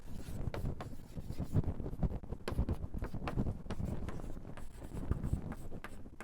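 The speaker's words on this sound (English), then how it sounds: "So I'll just write it here" Chalk or marker writing on a board during a physics lecture, a steady run of short scratchy strokes and taps, fairly close, over a low room rumble with no talk.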